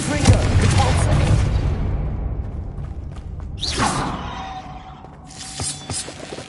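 Magic spell effects from the video game Hogwarts Legacy: a crackling burst and boom, then a sharp whooshing cast and fainter rumbling impacts, loud and close throughout.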